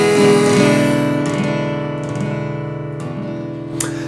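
Electric guitar playing the opening verse of a song, a sustained chordal phrase ringing loud and close, with a few brighter plucked accents later on and no voice over it.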